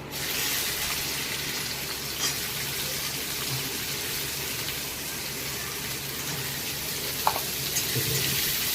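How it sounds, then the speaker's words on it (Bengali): Chopped onion hits a pan of hot fried cumin, setting off a steady, even hiss of frying that runs throughout, with a single sharp utensil tap near the end. "জিরেটা ভাজা হয়ে গেছে পেঁয়াজ কুচোনোটা দিচ্ছি"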